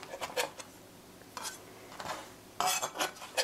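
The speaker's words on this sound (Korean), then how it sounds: "생강은 얇게, 아주 얇게 썰어서" A knife thinly slicing fresh ginger on a cutting board for a pork rice bowl, with three clusters of quick, crisp chopping taps separated by brief pauses, close and moderately quiet.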